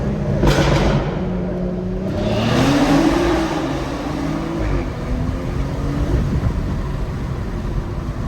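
A BMW M240 rolls in first gear at night as its turbocharged engine builds boost, a loud close drone from inside the car that swells and rises in pitch over several seconds.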